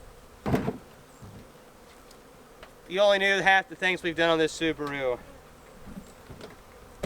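A dense, wavering buzz of a honeybee swarm rises for a couple of seconds, then fades into quiet background with a brief voice.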